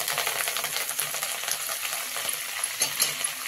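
Curry leaves and coriander sizzling in hot oil while making crispy poha chivda, a steady, bright crackling fry that continues without a break and stays fairly loud and close throughout.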